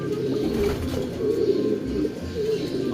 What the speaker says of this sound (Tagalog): gandang ibon mga kalonger